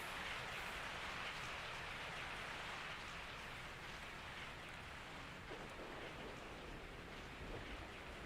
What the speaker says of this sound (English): I woke up to the sound of falling rain.